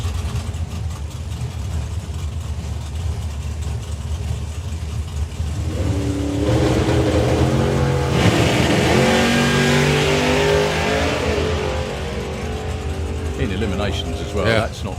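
A supercharged big-block drag car launches and accelerates hard down the strip at a drag racing festival, a loud rising engine roar that swells midway and holds, with an announcer and crowd talking over it.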